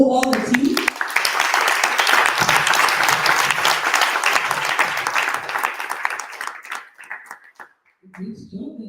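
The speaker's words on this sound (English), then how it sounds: "Let's give a warm round of applause to all the team." At the final event of the Africa Basque Challenge 2023, the audience gives the team a loud, close round of applause that swells, then fades by the end. A voice speaks briefly at the start and again as the clapping dies away.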